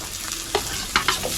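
Onion sizzles in a hot frying pan, a constant close hiss with a few brief crackling pops, no voices.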